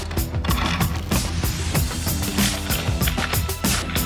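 Hand ratchet clicking in quick repeated bursts while driving lag bolts to mount casters on an exhibit base, close and clear with no talk.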